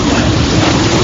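Dense, steady rain sound effect in a Filipino radio drama, a loud, unbroken hiss filling the whole moment with no voices.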